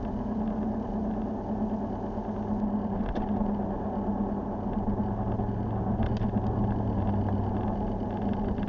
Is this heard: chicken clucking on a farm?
no